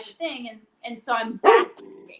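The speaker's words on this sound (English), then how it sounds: "Sorry. That's my dog." A pet dog barks loudly and close in a short burst, overlapping someone talking in a home setting.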